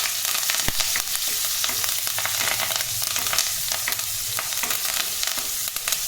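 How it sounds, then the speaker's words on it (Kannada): Steady crackling sizzle of onions and curry leaves frying in oil, with occasional sharper pops and light stirring clicks throughout, close and continuous. "ಸ್ವಲ್ಪ ಕರಿಬೇವು ಸೊಪ್ಪು ಹಾಕ್ಬಿಟ್ಟು ಚೆನ್ನಾಗಿ ಇದನ್ನು ನಾವು ಫ್ರೈ ಮಾಡ್ಕೊಳ್ಳೋಣ"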